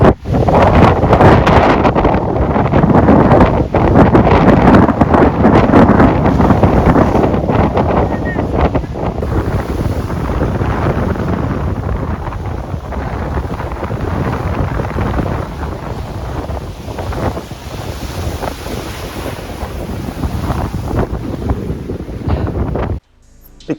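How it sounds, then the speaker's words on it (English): Strong winter wind buffets the microphone at a Cornish harbour on the Wrecking Coast, a loud continuous roar with gusty rumbles and a wash of sea behind it, ending abruptly. "And you can probably hear the wind."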